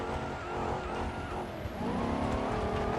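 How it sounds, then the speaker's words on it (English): A pickup truck stuck in mud in the BeamNG Drive driving game: a continuous loud engine roar under strain, held at high revs with a slight rise and fall, no voices. "Pickup truck's got stuck in the mud."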